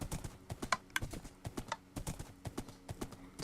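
Minecraft horse galloping in a steady, quick clip-clop rhythm of hoofbeats throughout, close and clear with no talking.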